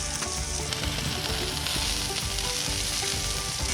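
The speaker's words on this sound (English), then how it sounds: "we got maple bacon cooking" Maple bacon, sausage, hash browns and peppers sizzle together on a griddle in a vintage camper, a dense, loud, continuous crackle and spatter heard up close with no talking.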